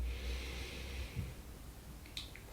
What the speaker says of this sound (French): Profond inspire.